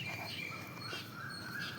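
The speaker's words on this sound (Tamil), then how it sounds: "என்னை சுற்றி நிறைய பறவைகளோட ஓசை தான் அதிகமாக இருக்கும்" Outdoor morning birdsong with koels and sparrows, a faint, steady mix of distant chirps and calls layered over soft background ambience.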